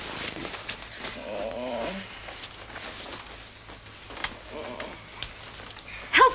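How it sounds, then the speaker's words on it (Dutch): A cat meows in a few short, faint calls amid a quiet indoor room, with light scuffling and shuffling sounds nearby. "Is kat, hè?"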